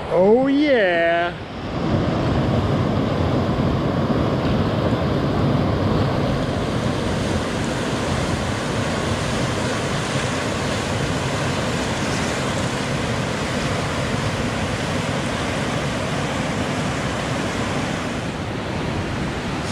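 Steady broadband rush of river water flowing on a hot day during a hike, continuous and fairly close, with a brief voice at the very start and no other talk.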